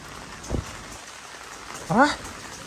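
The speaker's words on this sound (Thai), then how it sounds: "บรรยากาศฝนตก" Steady rain hisses softly in the background in Korea, broken by a brief knock and a short voice.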